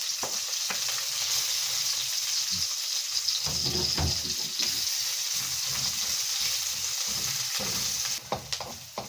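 Onion frying with native ginger in a pan for a simple bamboo shoot dish, a steady close sizzle with stirring scrapes and occasional louder bursts as ingredients hit the hot oil.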